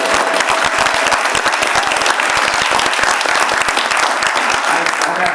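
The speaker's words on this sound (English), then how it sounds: "So let's just give a round of applause to Ann Davis, who's really good." Sustained applause from a conference panel audience, dense steady clapping from many hands filling the room, loud and continuous throughout.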